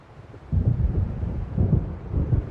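Low, rolling thunder from an approaching storm over open water in Alan Wake Remastered, a deep rumble swelling in after a quiet start and pulsing through to the end, with wind noise and no voices.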